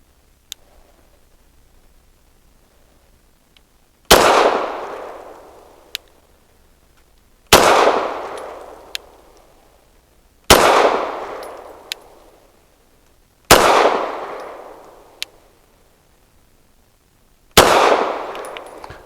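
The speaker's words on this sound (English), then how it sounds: "I'm going to do a double action first shot." Six loud, sharp pistol shots ring out from a Rock Island Derya Arms Melik firing 124 grain Bellum ammunition, spaced a few seconds apart, each with a long decaying echo at an outdoor range.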